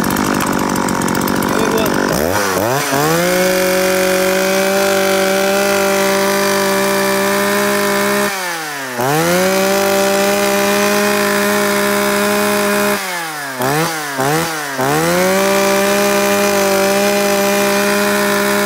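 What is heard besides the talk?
Japanese X4 chainsaw starting and sawing wood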